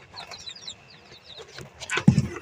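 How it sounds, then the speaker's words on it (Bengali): Chicken chicks and a quail chick give a quick run of high, thin cheeps, followed by a louder, sharper clucking burst near the end, all close up and without talk. "বাকি মুরগির বাচ্চাগুলো এবং একটি কোয়েল পাখির বাচ্চাটি"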